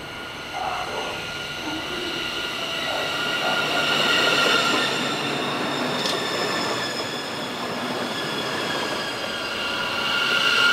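At Donauwörth station, a train rolls in with a steady, fairly loud rumble of railcars and a faint high squeal of wheels on the rails throughout.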